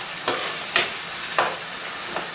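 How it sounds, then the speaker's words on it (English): About a tablespoon of unsalted butter is stirred into a chicken tikka rezala sauce in a pan: four distinct scraping strokes over a gentle, continuous sizzle. "We'll stir that into it as well."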